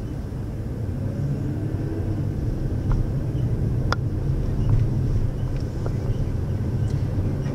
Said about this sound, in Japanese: スタート時の加速も悪くないです。 エンジン音が多少聞こえますが、そこまで耳障りな感じでもないです。